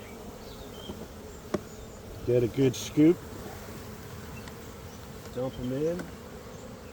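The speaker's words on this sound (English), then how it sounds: "Any bees that fly out, you know, the nurse bees will stay in there" Honey bees buzz around an opened hive during a mite check, a low drone with several louder passes as bees fly close to the microphone, while a person talks briefly in between.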